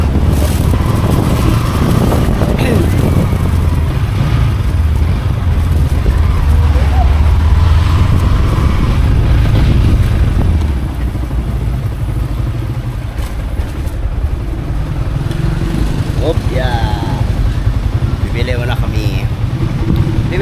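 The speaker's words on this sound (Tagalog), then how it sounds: "Off mo na ang motor, dali. Off mo na. Turn off the engine" A motorcycle engine drones steadily and loudly at close range during a long ride, mixed with heavy wind buffeting on the microphone, then drops to a lower idle near the end as people talk.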